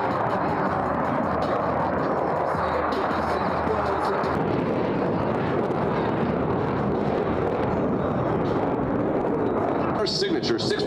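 Blue Angels jet aircraft fly in formation during an air show, giving a loud, continuous roar that fills the clip, with talk mixed in.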